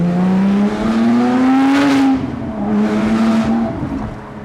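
A 600 hp DeMan 4.5-litre Porsche GT3 engine revs hard under load, its pitch rising steadily and then falling at a shift before climbing again, loud and close with a raspy racing note.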